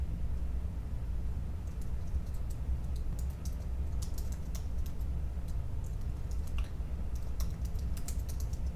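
Steady typing on a computer keyboard, a flurry of quick light key clicks in irregular bursts, close but fairly soft over a constant low background hum, with no talking.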